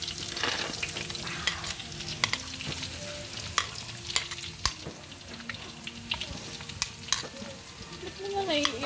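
Garlic frying in a pan with a continuous sizzle, punctuated by frequent sharp clinks and scrapes of a spatula against the pan, close and moderately loud.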